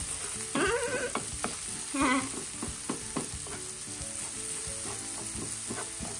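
Garlic, onion and black pepper sauté in a pan, giving a steady close sizzle broken by utensil scrapes and stirring clatter, with no voice.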